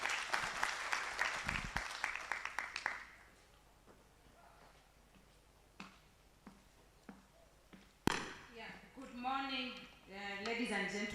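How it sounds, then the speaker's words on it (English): An audience claps at a national agroecology symposium opening ceremony, a fairly loud burst that fades after about three seconds, leaving scattered faint claps before a voice begins speaking. "Round of applause, ladies and gentlemen,"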